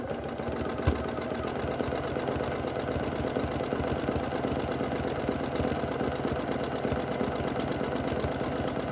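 A sewing machine running a straight stitch on a postcard-sized scrap card: a continuous fast mechanical rattle and hum, steady and close, with no talk.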